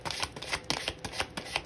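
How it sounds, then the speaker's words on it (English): Tarot cards being shuffled by hand, a quick run of crisp riffling bursts repeating steadily and close, with no talking. "I'll do one on camera so you know I'm shuffling"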